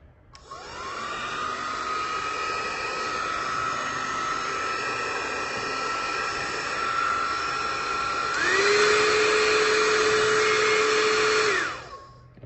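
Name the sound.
iTera-care classic hot air blower running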